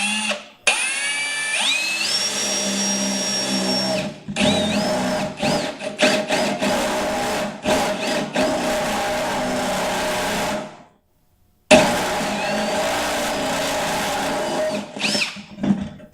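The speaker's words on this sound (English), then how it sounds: "So let me drill this out real quick." A power drill fitted with a stepped unibit bores out a square hole in bursts, whining up as each step bites, with a brief pause of silence before the drilling resumes.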